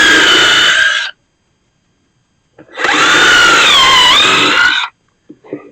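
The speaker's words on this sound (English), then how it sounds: "Drill me 4 screw holes in the front." A power drill bores screw holes in two loud whirring bursts separated by a pause of silence, the second burst longer with its pitch dipping under load before stopping.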